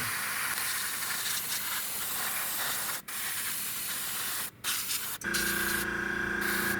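Gloss coat sprayed onto a model B-17 bomber kit, a steady close airbrush-style hiss running continuously with two brief breaks, then shifting to a slightly different tone near the end.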